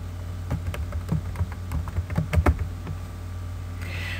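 Text being typed on a computer keyboard for a PowerPoint 2013 slide, a quick uneven run of close, crisp key clicks over a low steady hum, ending in a brief soft rush.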